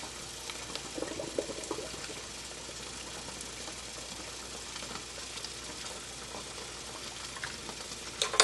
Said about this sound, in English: Now I'm just going to drain the water out again.